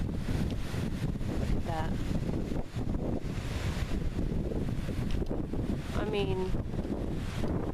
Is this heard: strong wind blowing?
yes